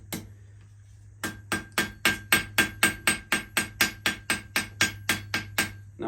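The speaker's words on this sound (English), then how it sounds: "I can just let the hammer bounce, and the hammer will actually work the steel" Hammer bouncing in quick, steady taps on a steel piece at a coal-fired forge, about fifteen close, bright metallic strikes in an even rhythm, with a low steady hum underneath.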